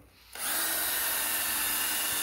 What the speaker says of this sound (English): a lot harder to drill, especially with a dull drill bit